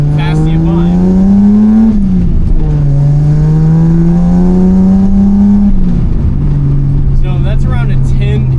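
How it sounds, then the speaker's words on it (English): A Datsun 280z engine fitted with FAST EZ EFI and a lightweight flywheel, revving loud and close in repeated rises and falls, its pitch climbing and easing back between blips. "I've got a lightweight flywheel in this, so it does really like to rev"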